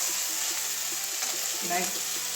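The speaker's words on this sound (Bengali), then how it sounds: "একটু কড়কড়া করেই ভাজবো" Potato, cauliflower and carrot pieces fry in a pan with a steady, close sizzle and a few stirring sounds, continuous and even throughout.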